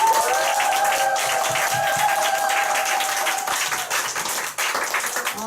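Sustained, dense applause from an audience at a business seminar, loud and steady throughout, with a faint tonal hum and a few voices mixed in near the end.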